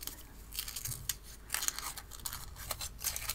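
Handmade watercolour paint pans are unwrapped from their wrapping, giving close, soft crinkling and tearing rustles in quick irregular bursts at low volume.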